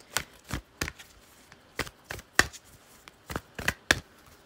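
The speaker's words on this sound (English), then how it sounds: "This is the angel answers card by Radley Valentine" Angel Answers oracle cards being shuffled by hand, a series of quick, papery riffles and slaps in an uneven rhythm, close and clear with no talking.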